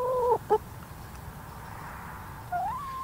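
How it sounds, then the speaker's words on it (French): Chickens in the morning: a rooster's crow near the start and another rising crow at the end, loud and close, with faint background between. "Les poules nous réveillent."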